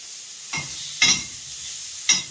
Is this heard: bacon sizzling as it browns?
yes